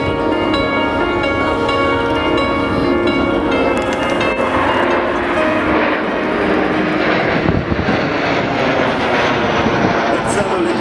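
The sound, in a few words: Patrouille de France jet aircraft flying past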